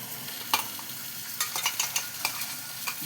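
Ground spice paste hits hot oil in a pan for a ridge gourd and lentil-dumpling curry, sizzling steadily as a spoon stirs and scrapes with several sharp clinks and scuffs.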